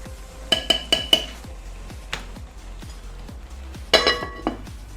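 A metal lid clinks and rattles onto a cooking pot of Nigerian goat meat stew, with several sharp close clanks in two bursts over a quiet kitchen background.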